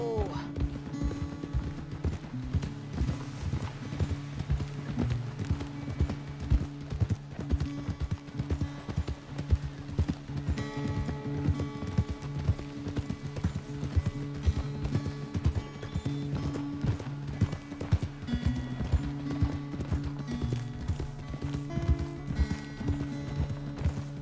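Steady clip-clop of trotting horse hooves in Red Dead Redemption 2, continuous and rhythmic, layered over a music-like game soundtrack with occasional faint voices.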